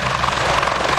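A helicopter lands at Mavivi airport in North Kivu, DR Congo, its rotor and engine giving a loud, close, continuous roar with a fast whirring pulse throughout.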